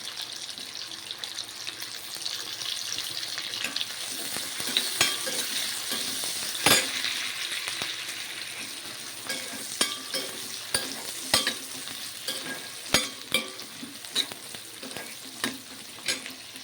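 Onion and green chillies fry in oil in a pan, a continuous soft sizzle broken by frequent sharp crackles, spatters and stirring scrapes, close and moderately quiet with no speech.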